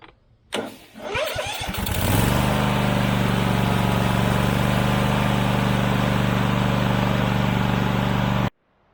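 A tractor mower with a freshly replaced starter cranks briefly, then catches and settles into a loud, steady idle that runs close by for several seconds before cutting off abruptly.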